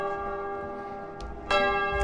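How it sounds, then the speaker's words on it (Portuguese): A church bell rings with a loud, sustained metallic tone, followed by a second sharp strike that sets the ringing louder again, heard close and alone. "Toca o sino, sacristão!"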